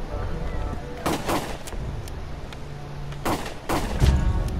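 Shotgun fire in the video game Tokyo 42, a few sharp booming blasts spaced about a second or two apart over a busy game background.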